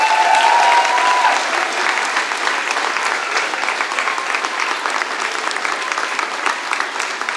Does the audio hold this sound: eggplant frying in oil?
no